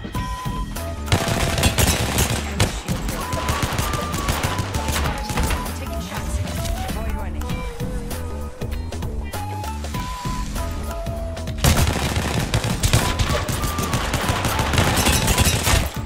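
Loud, continuous automatic gunfire from a gun in Apex Legends Mobile rattles for the whole stretch, with crashing impacts and in-game tones layered over the bursts.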